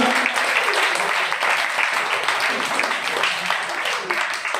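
A church congregation claps loudly together during a Sunday service, a dense sustained roar of applause filling the hall with voices mixed in.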